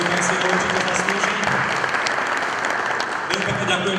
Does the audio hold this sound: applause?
yes